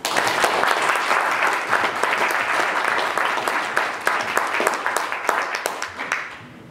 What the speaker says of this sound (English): Maryam Namazie, so please give her a round of applause.